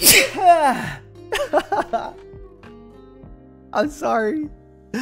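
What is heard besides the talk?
sneeze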